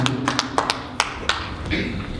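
Scattered, sparse claps from a small audience at a Congolese diaspora association talk, a handful of distinct hand-claps spaced out over a couple of seconds against quiet room noise.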